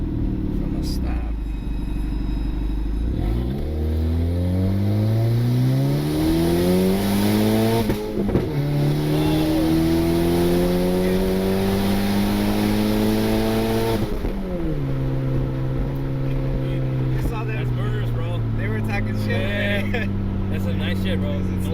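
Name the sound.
turbocharged Honda Civic accelerating loudly from a stop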